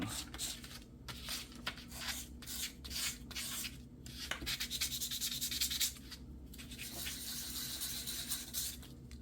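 Sandpaper rubbed with its finer, less coarse side over a thrifted item being given a floral makeover, making repeated soft scratchy strokes in bursts with short pauses, close and moderately quiet.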